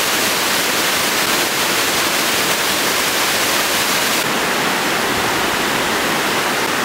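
A waterfall roars steadily, a loud, unbroken rush of falling water filling the whole space with no pauses.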